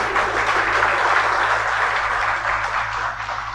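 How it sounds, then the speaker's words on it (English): Round of applause from a seminar audience at a college in Midnapore, a steady dense wash of clapping that holds evenly for several seconds with no voices over it. "Give a round of applause for them."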